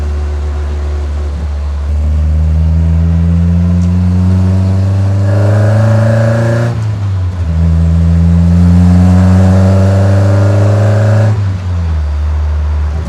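A Toyota AE86 fitted with a swapped 20V Black Top engine revs hard, its pitch climbing in long sweeps, dropping back, then rising again in a second loud, sustained run close to the car.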